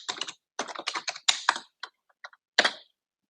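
Keys clatter on a computer keyboard in quick close bursts as a value is typed in, with short pauses between clusters and a final firm keystroke, no voices.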